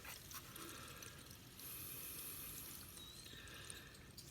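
Faint, steady rush of water flowing from a residential Rain Bird sprinkler valve hisses continuously in the background, quiet and distant.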